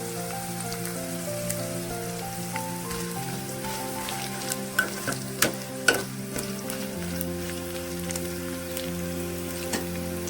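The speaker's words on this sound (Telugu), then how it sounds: "మాడకుండా వేయించుకుందాం." Bitter gourd pieces fry in hot oil over medium heat, giving a steady close sizzle with scattered pops and crackles, under a faint continuous tonal hum.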